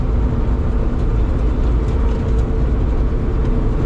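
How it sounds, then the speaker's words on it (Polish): A Bizon Z056 combine harvester engine running during the rapeseed harvest, producing a loud, constant low diesel drone with a steady mechanical rumble that does not let up. "A muszę mu troszkę jeszcze zmniejszyć obroty na mocarni."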